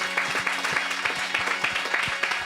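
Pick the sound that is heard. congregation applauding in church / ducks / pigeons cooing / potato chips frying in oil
congregation applauding in church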